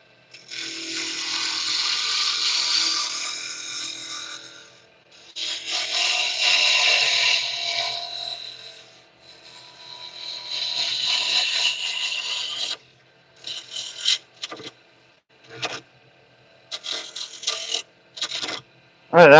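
Carbide tools scrape across wood spinning on a lathe in three long rasping passes, followed by shorter, choppier cuts and scratches with brief gaps between them.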